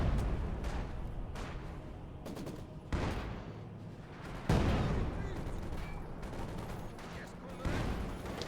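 Battle sounds from the Company of Heroes 2 strategy game, Wehrmacht against Soviets, with dense gunfire, machine-gun bursts and artillery thuds and blasts running continuously under a caster's commentary.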